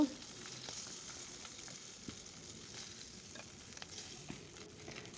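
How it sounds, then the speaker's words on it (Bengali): Fish frying hard and crisp in hot oil gives off a steady, fairly quiet sizzle and crackle, with a few sharper pops breaking through now and then. "এরপর মাছটা আমি খুব ভালোভাবে কড়া করে ভেজে নিয়েছি।"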